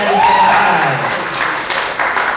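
A church congregation claps loudly together in a dense, steady burst of applause that fills the room, with a brief voice heard at the start.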